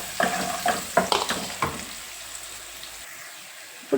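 Crushed garlic, onion, green chilli and turmeric frying in a pan, a run of quick stirring scrapes over a soft sizzle that then settles into a quieter hiss.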